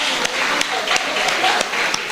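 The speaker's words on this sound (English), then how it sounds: "Let's give them a round of applause again" Audience applause for contestants at a spelling competition, a steady wash of clapping with several sharper claps standing out, fairly close and sustained throughout.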